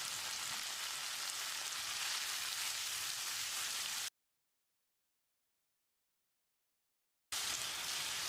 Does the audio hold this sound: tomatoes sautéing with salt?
yes